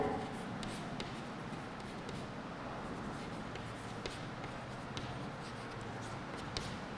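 Chalk or a marker scratches across a classroom board as an example is written, with short irregular strokes and taps under a soft steady room hum, faint and continuous.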